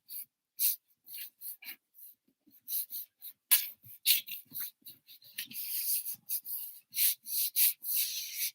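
Ink rubbed through a stencil to pull a print in a printmaking workshop: a series of short, close scratchy rubbing strokes in irregular bursts, growing denser and more continuous toward the end, with no talk.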